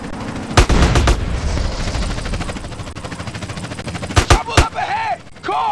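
Rapid bursts of gunfire from GTA San Andreas, with loud sharp volleys near the start and again near the end over a busy game backdrop of engine and action noise.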